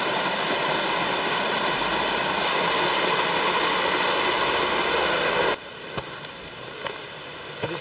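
Creek water rushing steadily over an outcropping in the wild, a dense broadband flow that fills the first five and a half seconds, then drops to a quieter trickle with a few faint knocks.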